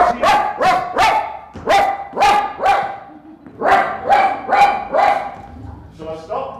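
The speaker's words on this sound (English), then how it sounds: "the cyclist has returned with a very large black dog on a tow chain, slobbering lips" A very large black dog barks in loud, close repeated bursts of several barks each, with short pauses between volleys and a few higher yips at the end.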